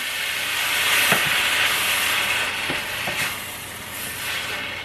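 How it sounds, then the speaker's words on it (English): Chopped tomatoes hit a hot pot and cook down, giving a steady broadband sizzle and hiss with a few soft stirring knocks, close and continuous with no talking. "I'm going to dump the tomatoes into the pot. And I'm going to cook those down just a little bit."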